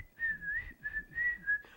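Someone whistles a short, wavering tune in several quick phrases, fairly quiet and close, with faint background noise.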